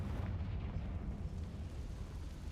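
Explosion from the Confringo blasting spell in Hogwarts Legacy on PS5, a heavy low rumbling boom that rolls on loudly through the whole moment.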